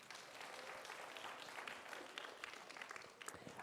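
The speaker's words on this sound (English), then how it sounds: "give yourself an applause and take a seat" Audience applause at a Cedefop 50th anniversary conference on learning and skills in Europe, a steady wash of many hands clapping at moderate level for several seconds before tapering off near the end.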